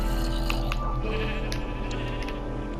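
Sheep bleat in Minecraft: PlayStation 4 Edition, a steady run of wavering, nasal baa calls over constant game background sound.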